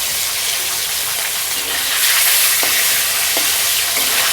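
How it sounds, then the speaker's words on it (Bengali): Pangas and tengra fish sizzle in hot oil in a pan, a loud, steady frying hiss that swells midway, with a couple of brief clicks and no talking. "গরম তেলে মাছ দিয়ে দিচ্ছি"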